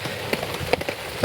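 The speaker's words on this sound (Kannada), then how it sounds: "ಇದು ಮಳೆ ಬರ್ತಾ ಇದೆ." Rain falls outdoors during a wet day, with the covered kit left damp in it; a steady broadband patter runs throughout, dotted with a few sharper drop hits at moderate level.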